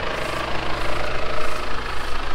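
A Valmet 865 tractor engine runs loud and close at a steady throb while it pulls a New Holland 935 baler baling hay, and nothing else is heard over it.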